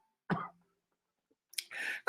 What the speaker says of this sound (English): I can feel the coughing coming on from talking too much.